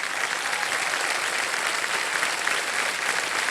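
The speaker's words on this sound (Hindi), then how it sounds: "मैं चाहता हूं कि इनका जोरदार तालियों के साथ स्वागत किया जाए." Studio audience on a quiz show giving a loud, steady round of applause to welcome a guest, dense clapping continuing without pause throughout.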